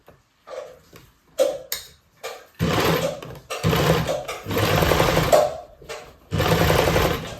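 Sewing machine running a zigzag stitch through thick watercolour paper, in short bursts at first, then longer steady whirring runs, close and fairly loud with brief pauses between.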